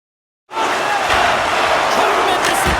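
A hockey arena crowd erupts into loud, sustained cheering and roaring that starts abruptly after a half-second of silence and holds steady at full volume.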